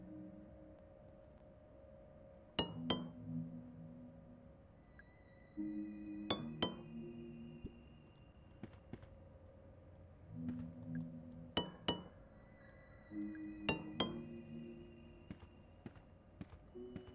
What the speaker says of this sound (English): If I tap the glass, am I going to get jump scared?